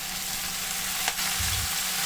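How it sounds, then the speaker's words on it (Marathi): Golden-brown onion with fenugreek leaves fries in a pan, producing a continuous close hiss and crackle with one brief sharp clink and a soft low rumble of stirring. "आता कांदा गोल्डन ब्राऊन झाला की आपण मेथी त्याच्यामध्ये टाकूया"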